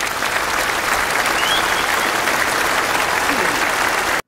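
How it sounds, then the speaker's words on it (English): Steady applause from an audience fills the whole stretch at an even, dense level, with faint voices mixed into the clapping before it cuts off abruptly at the end. "Let's clap for that too."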